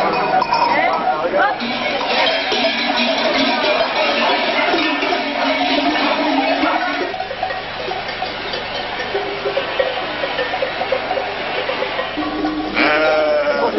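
A flock of sheep bleating continuously during a mountain transhumance, many overlapping calls near and far, with faint bell clinks and some voices mixed in.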